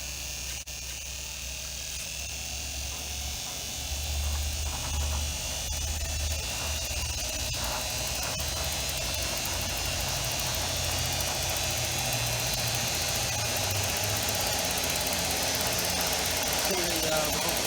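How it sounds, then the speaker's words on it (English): A treadmill motor spins up under its speed controller, a steady electric hum and buzz with rhythmic pulsing that carries on throughout, with faint voices now and then. "Definitely hear the motor start up with the pulsing."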